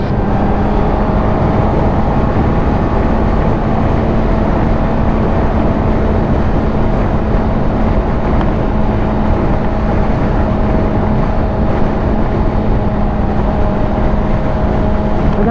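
A 2021 Honda CBR1000RR motorcycle engine drones steadily at speed in fifth gear, a loud, constant hum mixed with wind noise and no break or pause.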